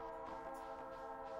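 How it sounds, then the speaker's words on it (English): A train rumbles past in the Stardew Valley video game, a faint continuous mechanical hum with tonal horn-like layers, steady throughout and heard alone without talk. "Trains passing by."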